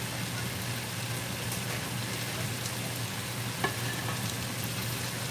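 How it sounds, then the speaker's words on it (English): Salmon frying in a pan gives a continuous close sizzle with a steady crackling hiss throughout, no speech over it. "I'm actually cooking salmon."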